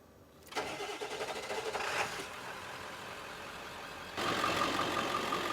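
A starter whirs, then a Ford F350 7.3 turbo diesel pickup engine fires up and settles into a steady, rough idle that briefly revs louder near the end.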